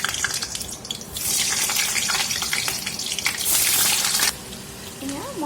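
Cut potatoes drop into hot oil for an Assamese mutton curry and set off a loud, steady sizzling hiss that swells and holds for a few seconds before easing, with a faint voice at the end.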